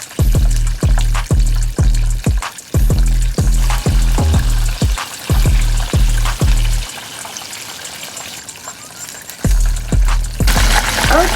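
Chicken fries in hot oil for a homemade Popeyes-style sandwich, a loud close sizzle broken by repeated rhythmic thumps and bursts, then a quieter stretch before the hiss surges again.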